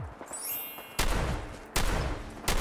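Heavy gunfire in the video game Fallout 4 arrives as three loud, sharp bursts spaced under a second apart, each one ringing out into a rumbling tail.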